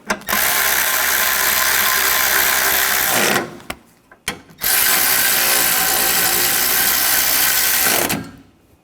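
Ratchet wrench tightening radiator bolts on a 2013-2022 Buick Encore 1.4L, heard as two long bursts of rapid, loud, close clicking separated by a short pause.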